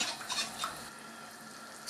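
Mustard sauce in a pot on a gas stove, stirred as it comes to a boil: soft scraping and bubbling hiss close by, a few stirring strokes at the start fading into a steady low simmer.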